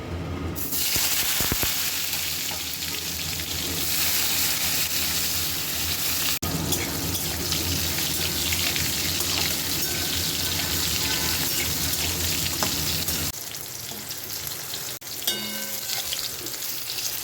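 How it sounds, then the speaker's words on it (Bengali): Pointed gourd (parwal) pieces fry in hot oil, a dense, steady sizzle that runs for the whole stretch and eases slightly near the end, with occasional utensil knocks and no talk. "প্রথমে পটলগুলো ভেজে নেব"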